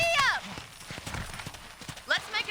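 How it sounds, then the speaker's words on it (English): Horse hooves clip-clopping in the Red Dead Redemption video game, a quick run of close hoof beats beneath talking, with a horse's whinny at the start and again near the end. "let's see if you can still ride a horse"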